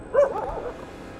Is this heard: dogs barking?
yes